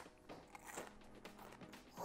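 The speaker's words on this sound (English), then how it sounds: "Listen to that crunch." Crunchy frozen tempura bitten up close, giving a few dry, brittle crunches that are quiet and sparse, with no talk, and a louder sound cutting in at the very end.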